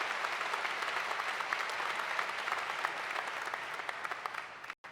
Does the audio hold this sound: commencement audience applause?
yes